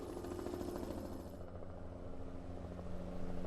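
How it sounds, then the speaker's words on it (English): A helicopter flies through smoke over a forest fire, giving a steady, droning rotor and engine rumble that holds evenly throughout at a moderate distance. "Is that a helicopter flying through the smoke?"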